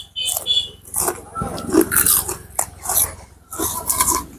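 Crunchy papdi snack chewed close to the mic, in uneven bursts of crisp biting and crunching, with voice sounds mixed in.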